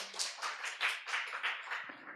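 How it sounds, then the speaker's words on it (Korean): Clapping from a church congregation at a Monday revival service, a steady run of quick, fairly close handclaps with no voices over it. "우리 하나님 박수 올려드려요"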